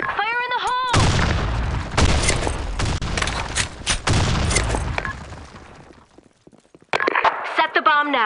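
Grenade blasts and gunfire in the shooter Blackshot during a public match: a loud burst opens into several seconds of booming, crackling explosions and shots that fade out, with a voice calling before and after.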